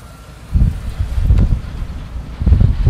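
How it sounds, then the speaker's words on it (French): Gusts of strong wind buffet the microphone in low rumbling bursts during an open-top drive in an Audi TT RS Roadster, swelling and easing over a few seconds. "Il y a énormément de vent."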